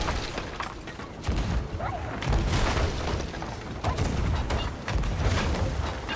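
Cannon fire in Sea of Thieves booms against a ship, heavy repeated thuds and creaking wood over steady sea noise, with people talking over it.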